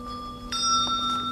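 Small bells ring out in clear, bright, sustained tones, with a few fresh strikes layered over lingering resonance.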